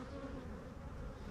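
Bees crawl over a honey frame from the top hive box, giving off a soft, steady, low droning buzz throughout, with no talking.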